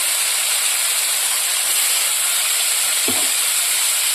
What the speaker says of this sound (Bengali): এবার এগুলোকে ভেজে নেব।